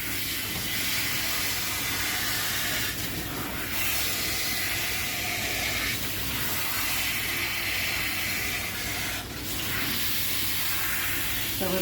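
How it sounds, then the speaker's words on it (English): Water sprays steadily over a double-coated Spitz dog, rinsing conditioner out of its foamy coat, a continuous close hiss of shower flow with slight surges and no talk. "So just rinsing all that conditioner out."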